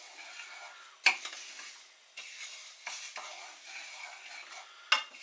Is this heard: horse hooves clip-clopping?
no